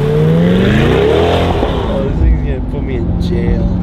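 A new C8 Corvette spins its tires without grip, its engine roaring loud and close with a rising then falling whine and some tire noise, while people talk over it.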